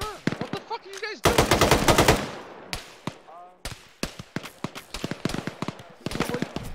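Rapid bursts of machine gun fire in a military video game, loud sharp cracks in dense volleys and scattered single shots with short gaps, close by and dominating.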